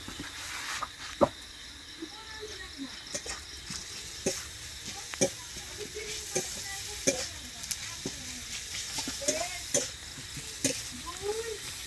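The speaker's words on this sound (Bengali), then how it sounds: "লসুনটা নিয়ে নিচ্ছি লসুনটা দিয়ে দিচ্ছি" Garlic going into onion and chilli frying in a village kitchen for dal tadka, heard as a soft steady sizzle with scattered spatula clinks and scrapes, fairly quiet and close, no voices.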